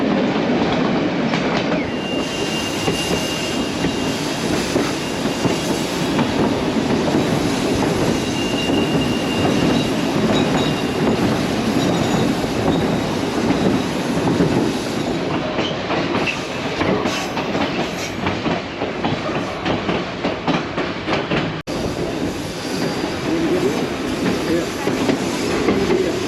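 White Pass train rolling along mountain tracks, a continuous loud rumble and clatter of wheels and rail cars with occasional squeals, heard close from on board.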